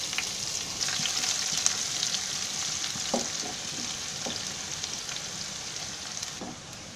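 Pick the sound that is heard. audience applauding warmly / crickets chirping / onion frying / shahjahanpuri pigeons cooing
onion frying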